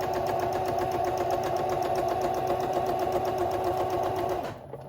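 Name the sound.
sewing machine stitching with a zipper foot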